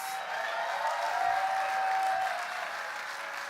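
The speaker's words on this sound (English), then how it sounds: "I'm glad you guys are applauding" Audience applause at an HRC Visibility Award event in New England, a steady, moderately distant wash of clapping that holds for several seconds and eases slightly toward the end.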